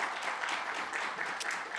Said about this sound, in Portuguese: Palmas para ele, viu?